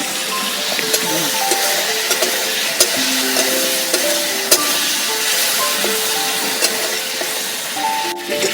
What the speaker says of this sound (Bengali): চিংড়ি মাছটা ভেজে নেব, কড়াইতে তেল দিয়ে দেবো।